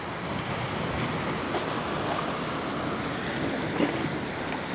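Ocean waves roll in and break along a windy coastline, a steady broad wash of surf with wind buffeting the microphone and a slightly stronger surge near the end.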